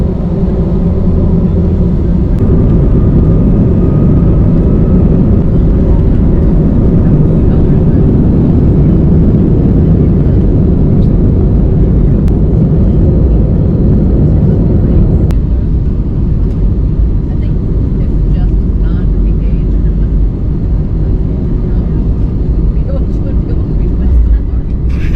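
Steady loud low-frequency roar of a passenger airplane cabin during a flight to Colorado, continuous engine drone throughout with faint voices in the background.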